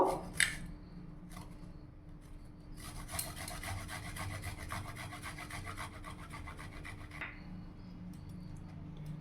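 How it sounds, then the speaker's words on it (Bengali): A one-inch piece of fresh ginger rasped against a grater in a home kitchen, steady rhythmic scraping strokes that run close and continuous through the middle stretch, with quieter handling before and after. "আমি আদা গ্রেট করে নিয়েছি"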